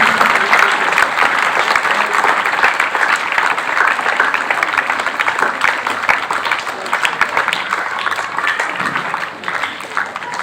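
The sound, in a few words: loud audience applause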